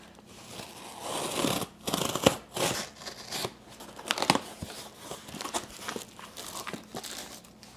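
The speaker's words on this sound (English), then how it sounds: "We got another package in today from Grim Speed, so let's open it up." A parcel from Grimmspeed is unwrapped, with packaging torn and crumpled in bursts of crinkling, rustling and tearing sounds at close range and no voices.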